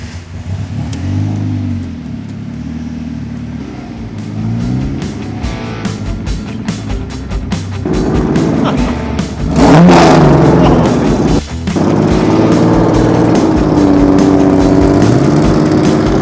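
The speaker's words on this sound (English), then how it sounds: "we're gonna go ahead and pull it out, let everybody see it, maybe rev it a little bit" A DF Goblin sports car's engine, turbocharged or supercharged, idling and then revving at a car meet in Dallas, loud and close, with the pitch rising and falling over several throttle blips.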